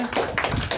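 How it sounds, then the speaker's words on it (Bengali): Hand claps from a small group at a modest home celebration, a quick burst of close, fairly loud clapping lasting under a second. "সবাই তাহলে হাততালি দাও"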